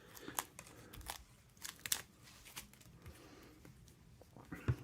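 Plastic wrapping is peeled and crinkled off a newly unboxed mechanical watch, producing quiet, scattered rustles and brief crisp snaps close by, with no talking.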